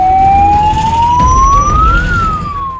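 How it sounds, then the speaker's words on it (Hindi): An ambulance siren wails loudly and close by while stuck in a heavy city traffic jam, a single tone sweeping slowly upward then dropping, over a low rumble of surrounding vehicles. "एपरिक भिड़ जोगु पीएमजी छकरे दीर्घ समय धरी फसी रहितिला एक एम्बुलेंस।"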